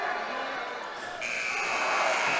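At a high school basketball game between Loyalsock and Montoursville, a long, steady electronic buzzer ends the first quarter, sounding over constant gym crowd noise.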